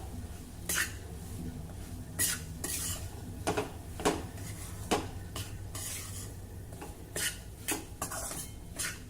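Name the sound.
semolina being stirred and roasted in ghee in a pan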